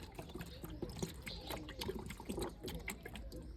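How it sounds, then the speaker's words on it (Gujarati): Water is added to the empty tank of a Yuvraj mini tractor during servicing, a steady close splashing trickle with some faint voice in the background. "પાણી એમાં થોડુંક ઉમેરી દઈએ"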